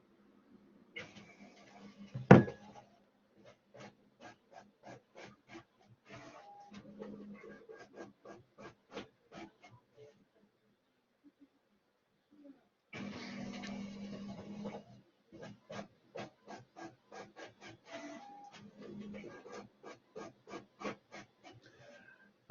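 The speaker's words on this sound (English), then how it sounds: "it might be the wireless printer has just started printing something" A wireless printer runs in a room, giving repeated rhythmic mechanical ticks and rasping feed strokes in bursts with a pause in the middle, fairly faint and close by.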